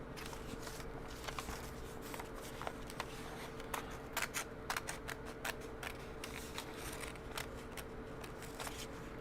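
Scissors snip through Japanese fabric while sewing gyoza bags, a quiet series of irregular crisp clicks and cuts close to the microphone.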